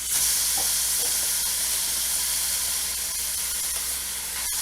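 Three pounds of ground turkey land in hot oil in a pan and begin browning, a loud, steady hissing sizzle that eases off a little over several seconds. Soft clatters are heard near the end, and no one speaks.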